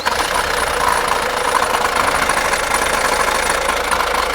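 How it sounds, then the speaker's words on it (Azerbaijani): A Kia Sorento diesel engine with a knocking fault running at idle in a repair workshop, heard close and loud as a continuous rough drone with a rapid, even knock, no talking. "Motordan dəhşətli dərəcədə səs gəlir"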